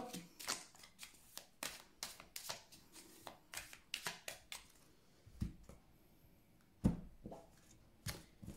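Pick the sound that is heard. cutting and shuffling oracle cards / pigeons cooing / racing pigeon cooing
cutting and shuffling oracle cards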